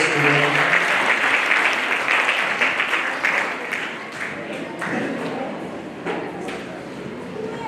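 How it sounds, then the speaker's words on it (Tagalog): A large audience at a church teachers' congress applauds in a dense, loud wash of clapping that gradually thins and fades, with voices mixed in. "ibigay po natin sa mga ating palakpak sa ating kapitang Diyos"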